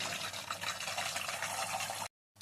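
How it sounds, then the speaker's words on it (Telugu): Two eggs dropped into hot oil in a kadai crackle in a dense, steady sizzle for about two seconds, then it abruptly cuts to silence. "ముందుగా అయితే ఆయిల్లో ఎగ్స్ని వేసుకుందాం."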